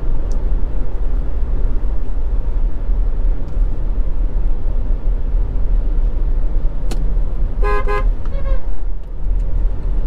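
A car drives along a country road near Mile Gully in Manchester, Jamaica, with steady low engine and road rumble, a brief sharp click and a short horn toot near the end.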